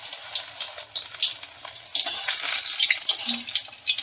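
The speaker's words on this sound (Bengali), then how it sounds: "আস্তে আস্তে করে ভেজে নিচ্ছি এবার এটা।" Cabbage pakora being re-fried in hot oil, giving a steady, close crackling sizzle with bursts of bubbling throughout, no voices.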